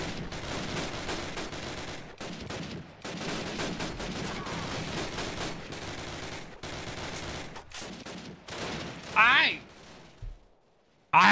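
Gunfire in Call of Duty: United Offensive, a busy WWII battlefield with repeated sharp shots and volleys cutting through constant noise, someone talking over it, then a brief lull before a final crack.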